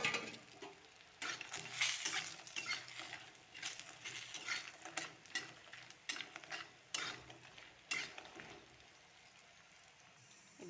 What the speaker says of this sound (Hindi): एबे से कड़ाई रे बड़ी की भाजी नवा।